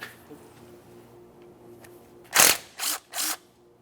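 Ratchet loosening the 10mm bolt on a 2010-2013 Kia Forte Koup ABS wheel speed sensor at the steering knuckle, heard as three loud, close clicking bursts near the end after a quiet stretch.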